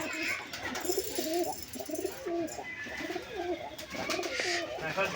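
Giribaz pigeons coo in repeated soft, rolling phrases close by, with overlapping calls from several birds and a low murmur of talk in the background.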